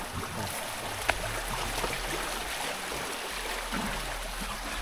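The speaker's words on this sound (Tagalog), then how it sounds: "Malakas na yung pasok ng tubig." Water pours strongly into a rural fish pond on a farm in the rainy season, a steady, even rushing and trickling wash with no speech.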